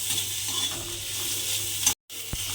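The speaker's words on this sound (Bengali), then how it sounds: "এবার এই আদা রসুনটা দিয়ে একটু ভাজা ভাজার মতো করে নেব" Ginger and garlic frying in a pan, a continuous bright sizzle with faint stirring, briefly cutting out near the end before a single low knock.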